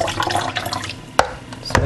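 Coconut chaff is squeezed by hand to drain its liquid, a close, continuous watery trickle and splash with two sharper drip-like splats near the end.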